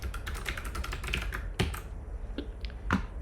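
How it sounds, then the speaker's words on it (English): Rapid, irregular clatter of keys typed on a computer keyboard during iOS app development work, close and fairly loud, with a few sharper isolated taps standing out near the end. "you can see when we start typing"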